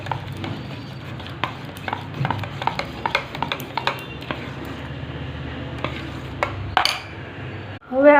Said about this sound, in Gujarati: મીઠાને સારી રીતે મિક્સ કરી લેવાનું છે